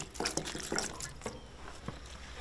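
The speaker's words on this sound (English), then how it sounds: "pour some on the belly" Gasoline poured onto a duck's belly during taxidermy gives faint, close liquid sounds: a few small splashes and drips, then a soft trickle that tapers off.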